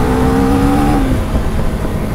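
A Husqvarna Svartpilen 401 single-cylinder motorcycle engine held at high revs under full throttle while riding, a loud steady drone with a strong tone that fades into rough wind-blown road noise.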